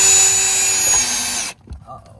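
A power drill whines loudly and steadily while boring a pilot hole into a van, then cuts off abruptly, leaving faint clatter and near silence.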